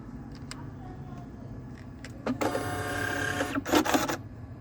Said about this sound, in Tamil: இப்போ ஒரு பிரிண்ட் வேணால் உங்களுக்கு எடுத்து காமிக்கிறேன்